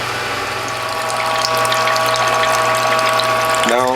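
A hydraulic juice press squeezes water out of cloths, a loud, steady mechanical hum and grinding with a ratcheting undertone, ending in a rising whine as the pressure shifts.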